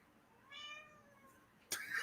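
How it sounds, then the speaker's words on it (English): A cat gives two meows close by, a drawn-out tonal one followed after a pause by a sharper, louder one, with no voices over them. "The kitty says so."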